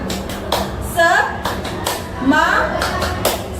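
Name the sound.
group rhythmic clapping, 'tepuk semangat' ice-breaker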